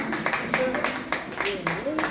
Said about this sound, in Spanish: fuerte los aplausos para Lupita